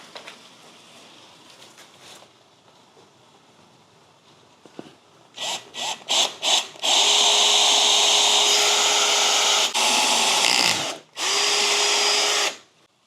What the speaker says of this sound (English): This is the scary part when you start drilling.